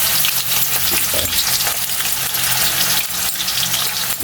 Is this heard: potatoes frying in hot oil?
yes